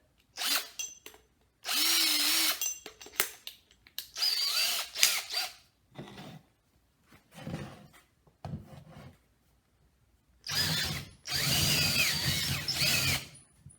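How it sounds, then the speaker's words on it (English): A power drill with a larger bit bores into wood for a homemade trench club, several loud grinding bursts of varying length with short pauses and rubbing scrapes between them, close. "Now we're going to use the final one,"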